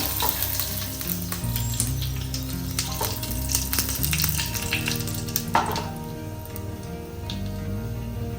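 Steady crackling sizzle of curry leaves and chillies frying with mustard seeds in hot oil, loud and close, with faint background hum and a few sharper pops.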